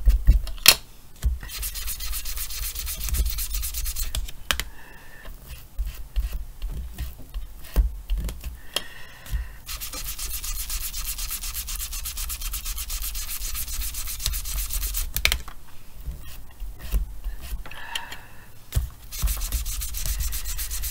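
Sandpaper rubbing on a paper card to make sand for a beach-themed card, a continuous dry scratching and rasping with short pauses and light taps.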